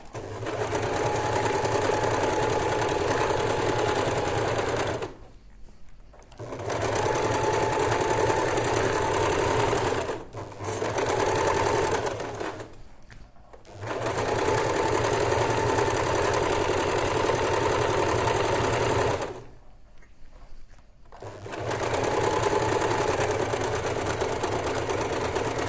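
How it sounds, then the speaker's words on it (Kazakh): A sewing machine stitches fabric for a staple-fabric dress, a steady mechanical whir running in long even stretches that stop briefly several times before starting again, close and alone with no talk. "Төртке қоям да и закрепка бермей тігемін."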